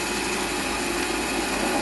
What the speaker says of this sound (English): I'm just in the process of drilling it out with an M4 tapping drill